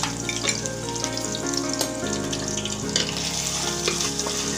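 Onion and garlic paste with chopped garlic and chillies frying in a pan while being stirred, a steady sizzle with scraping of the utensil and some clinks, no voices.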